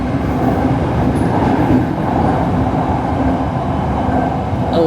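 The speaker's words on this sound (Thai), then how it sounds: "นั่งรถไฟฟ้าสายสีแดงแล้วก็มาลงที่ บางเขตได้เลยนะ" Steady, loud rumble of a Bangkok Red Line commuter train in motion, a continuous rolling drone of wheels and carriage noise from inside the car with no talk.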